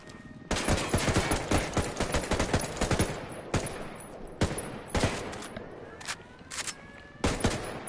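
Sniper and other gunfire in the video game Ghost Recon: a dense run of sharp shots, bursts and cracks, loud and close, some spaced, some rapid, with no talking.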